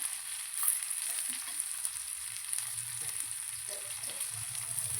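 Rava-coated fish, one side already crisped, now frying on its second side in a pan, giving a steady soft sizzle with faint crackles and no voices.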